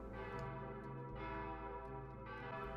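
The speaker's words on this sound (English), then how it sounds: "the Nidarosdomen Cathedral that stood tall and rung its bells loud and clear." The large bells of Nidarosdomen Cathedral in Norway ring loud and sustained, their rich overlapping tones swelling with each new strike, with no voices.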